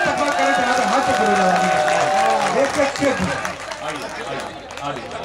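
An audience at a mushaira poetry gathering claps in welcome, a dense burst of applause that thins out toward the end, with voices talking over it.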